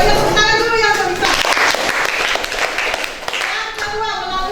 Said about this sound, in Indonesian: tepuk tangan dulu yang bisa